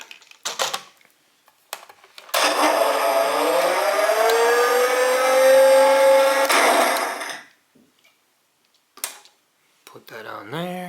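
A 2013 Hess toy truck's small electric motor whines steadily for about five seconds, rising in pitch as it climbs onto its trailer, with clicks of handling before and after and a voice at the close.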